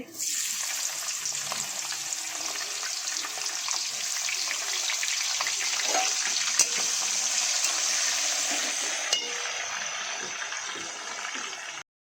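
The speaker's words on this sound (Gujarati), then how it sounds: "તેલ ગરમ થાય એટલે તેમાં થોડું આપણે જીરું નાખી દઈશું થોડા તમાલપત્ર નાખીશું આ રીતે તેમાં કેપ્સિકમ નાખી દઈશું" Cumin seeds, bay leaves and capsicum sizzle in hot oil, a loud steady hiss of frying that runs unbroken for several seconds with faint stirring clinks, close up and without any voices.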